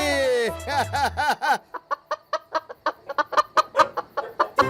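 A chicken clucks and squawks at close range in a rapid series of short, rhythmic calls, preceded by a longer shrill cry at the start.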